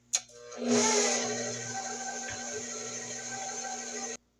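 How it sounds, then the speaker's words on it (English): Electric mixer running through pound cake batter as flour is mixed in, starting with a click, then a loud, steady whirring hum for about three and a half seconds before cutting off abruptly. "the last our flour is going in now. Going to mix that until combined."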